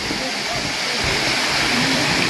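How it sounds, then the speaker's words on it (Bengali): Water of the Erfelek Tatlıca waterfall in Sinop, Turkey tumbles downward in a loud continuous rush, a steady broadband roar that stays close and constant throughout. "এই যে নিচের দিকে পানি ঝরে যাচ্ছে"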